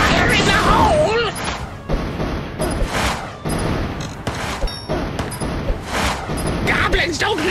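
Bomb explosions and rapid blasts rattle through a Kingdom Rush Vengeance battle, loud bursts with ringing dings under game character voice lines.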